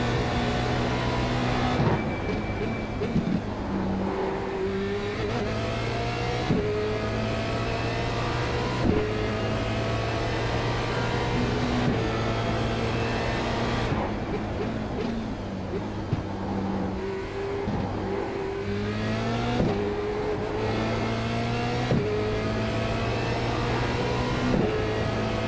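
Formula Renault 2.0 race car engine in the iRacing sim at Zolder Circuit, repeatedly revving up and shifting through gears in rising tonal sweeps, loud and close with brief drops between pulls.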